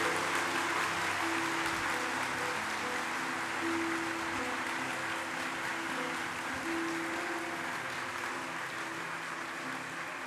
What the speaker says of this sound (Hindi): तालियों के नाद से स्वागत किया जाए बागेश्वर धाम का।